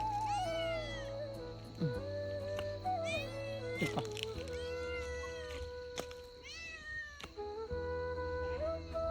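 A cat meows repeatedly, long drawn-out wavering cries close by, with short pauses between calls and a steady low hum underneath.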